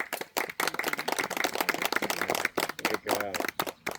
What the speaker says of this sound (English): if we clap, just a little clap now